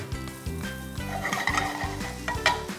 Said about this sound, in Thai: พริกแห้งครับ ผัดกับน้ำมันเล็กน้อยให้สีสวยนะครับ